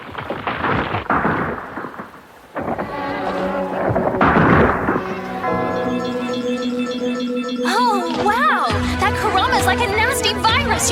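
A large explosion in the anime YuYu Hakusho, with heavy rumbling booms and a roaring blast in the opening seconds, then sustained tonal dramatic music and swelling effects, without speech.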